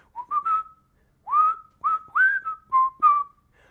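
A person whistles a melodic tune in short phrases, clear, bright and close, with brief pauses between phrases and no talking.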